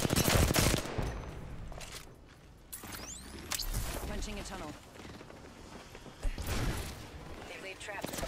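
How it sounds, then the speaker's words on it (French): Gunfire in Apex Legends, a busy exchange of rapid automatic bursts and single shots, some close and punchy, others further off, with whooshes and a voice talking over the fight. "on sait que ça tire par là-bas"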